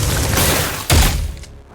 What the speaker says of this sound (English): So like she kinda reloads, then shoots again